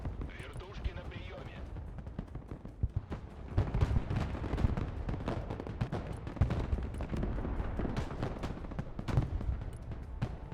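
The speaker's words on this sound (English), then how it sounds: "And they've also called out mortars on us." Mortar and artillery fire in the video game Broken Arrow, a run of booming impacts and gunfire bursts that thicken into a dense, rumbling barrage, with a voice talking over part of it.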